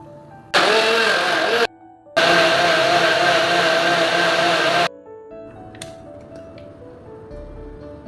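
A mixer grinder blends ABCG juice with added water in two loud whirring bursts, a short one followed by a longer run, then quiet kitchen sounds.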